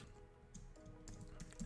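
Quiet computer keyboard typing, a few soft key clicks scattered over a low steady room hum, with no voices.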